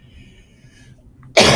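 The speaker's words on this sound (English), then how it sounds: "Excuse me for coughing" A single sharp, loud cough bursts out close to the microphone after a quiet pause, a man breaking off mid-lecture.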